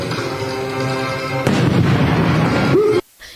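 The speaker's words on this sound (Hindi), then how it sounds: "अस्पताल के दरवाजे को खास तरीके से विस्फोटक लगाकर उड़ा दिया गया।" Explosives blast open a hospital door during a commando raid. A sudden loud boom gives way to a sustained rumbling roar, which cuts off abruptly into near quiet.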